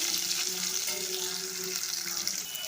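Steady hiss and crackle of two chopped large onions frying with curry leaves in a pan, continuous and close, with no talking.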